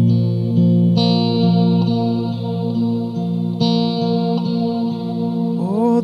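An electric guitar plays chords through a VOX AC15 head with a Morning Glory overdrive, delay and reverb, ringing loud and sustained with repeated strums and a shimmering, echoing tail.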